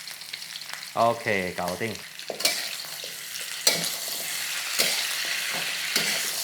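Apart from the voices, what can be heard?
stir-frying pork trotters with bean paste and soy sauce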